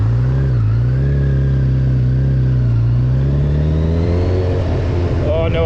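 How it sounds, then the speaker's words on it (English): A Honda CB1000R motorcycle engine idles loudly and close, its steady rumble rising into a rev near the end. "Oh no, I just need to give it one last rev."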